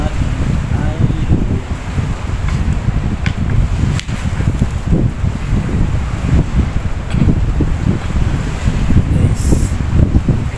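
Gusty wind buffets an open microphone outdoors during a bike and hand-line fishing outing in bad weather, a steady low roaring rumble with brief rustling flicks throughout.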